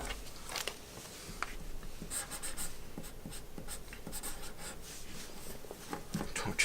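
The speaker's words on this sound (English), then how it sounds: "I just need you to sign or write something on there that makes it unique to you." A pen scratches and scrawls across a playing card, signing or writing on it with quick rubbing strokes and brief pauses, close and fairly quiet, with no talking.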